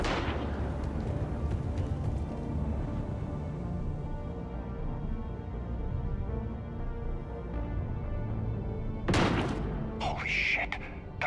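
Gunfire from executions in the video game Mass Effect 3, a sharp burst of shots and thuds near the end over a dense, rumbling game soundscape.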